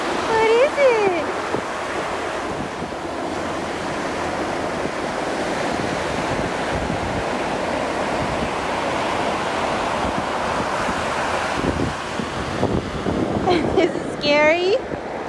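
Ocean surf on a beach in Korea rolls in a continuous wash with wind buffeting the microphone, and brief higher calls or voices rising near the start and end.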